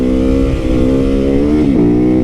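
A supermoto motorcycle engine idles close and loud with a steady harmonic drone, then blips sharply in a quick rev before settling back to idle.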